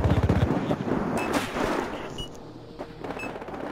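Battle rifle fire in the video game Battlefield Hardline: a quick cluster of sharp, loud shots at the start, followed by scattered cracks and echoing booms that fade toward the end.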